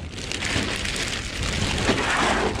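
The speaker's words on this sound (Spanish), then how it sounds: "Y ya se vino la lluvia, gente bonita." Steady rain pours down outdoors, a dense continuous hiss of drops on surfaces throughout, with no voices.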